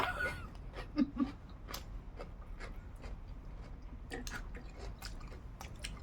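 Someone chews and bites on eggs eaten with a seafood dipping sauce with raw chili. The chewing is close and wet, with a few sharper crunches early on over a steady background hiss.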